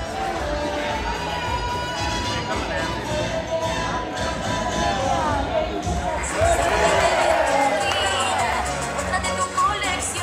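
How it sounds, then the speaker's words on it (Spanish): Neighbours gathered around a lottery winner cheer and shout in a dense, continuous crowd roar, with voices talking throughout the noisy celebration and a louder swell near the end. "Se renueva el aplauso para Eduardo, bien fuerte el aplauso"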